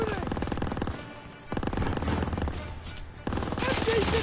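Rapid machine gun fire in Call of Duty: WWII, dense bursts of automatic shots rattling in bursts across a battle scene, with a few short pauses and some voices faintly mixed beneath.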